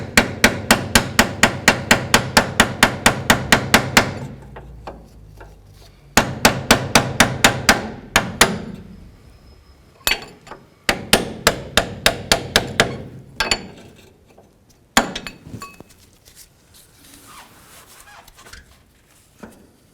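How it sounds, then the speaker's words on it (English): A long extension being tapped with a hammer to drive down the rust-penetrant-soaked intermediate steering shaft of a 2004–2012 Chevrolet Colorado: rapid bursts of sharp metallic knocks in quick runs, then slower scattered single hits, close and loud. "And we're going to gently go ahead and tap down."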